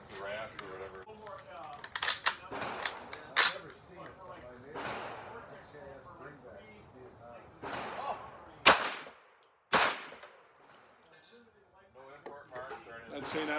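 M1 Carbine fired with a 30-round magazine, a handful of sharp, widely spaced outdoor shots with pauses between them, heard among stretches of talking.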